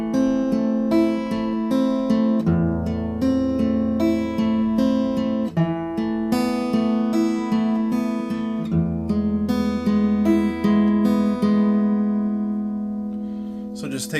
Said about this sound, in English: So if I played measures 13 through 16, it would sound like this.